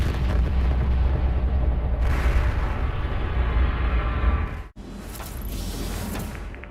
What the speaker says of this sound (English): precisely at the time of the scheduled launch, there was a horrific explosion